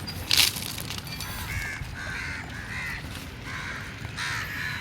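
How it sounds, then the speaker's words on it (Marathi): Crows caw outdoors in a run of repeated harsh calls, several fairly close and loud, with a sharp burst near the start and steady background noise between the calls. "हे बघा आमचे कावळे काका"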